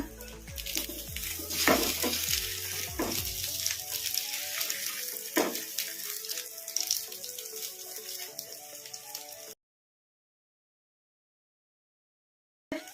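Omelette bonda frying in hot oil, a steady close crackle and bubbling with a few sharp pops, running without talk until it cuts to silence near the end.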